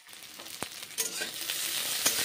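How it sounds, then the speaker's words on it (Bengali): Onions frying in oil in a pan for a cauliflower curry, a steady close sizzle with a few sharp clinks and stirring scrapes along the way, no talking. "পেঁয়াজগুলো ভেজে নিচ্ছি"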